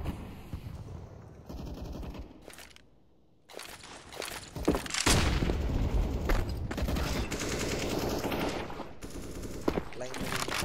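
Rapid automatic gunfire bursts and a heavy grenade blast ring out in a Counter-Strike: Global Offensive esports tournament match, loud and dense, with a brief lull before the explosion and steady shooting after it.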